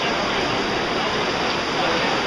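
Heavy rain pours outside an open doorway in a thunderstorm, a dense, even wash of loud hiss that holds steady throughout.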